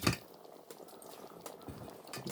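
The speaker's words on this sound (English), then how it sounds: "the soup is boiling over there." A pot of raw peanut soup with dry nettle leaves boils on the stove, giving a faint continuous bubbling hiss with a few soft clinks of cookware.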